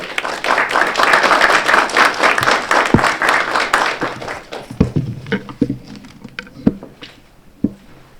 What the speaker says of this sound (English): please give a warm round of applause for Mayor of Medford.